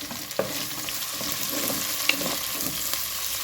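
Green chillies, onion and tomato fry in a pan with a faint, continuous sizzle, while a spoon stirs in light, irregular scrapes and taps.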